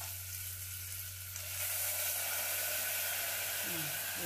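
Chopped pumpkin pieces sizzle in a hot tempering for North Karnataka style sambar, a steady close frying crackle that swells midway, with a faint low hum underneath.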